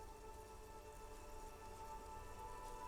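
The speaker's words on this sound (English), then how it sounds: "Rain drips from the eaves and floods the gutters" Steady rain in the video game Disco Elysium falls evenly on a hard surface, a dense continuous patter with no voices.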